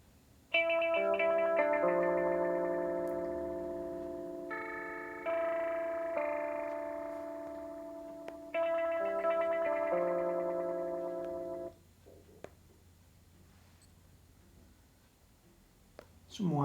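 An Eventide H9 harmonizer pedal on its mod filter effect processes loud, sustained guitar chords that step between pitches with a warbling, filtered edge for about eleven seconds, then the sound cuts to a low, quiet hiss.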